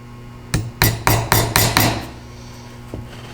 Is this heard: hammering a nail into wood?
yes